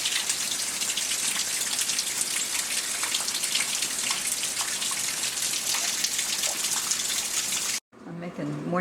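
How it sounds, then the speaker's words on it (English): Steady, close rain pours onto a front porch in the Lowcountry where standing water is collecting, a dense continuous patter that cuts off abruptly near the end, followed by brief quieter sounds. "It's been raining ever since."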